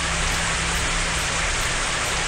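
Steady rain pours in the Japanese horror game On Deki, a dense, continuous hiss of drops on surfaces with no pauses, fairly loud and unaccompanied by voices.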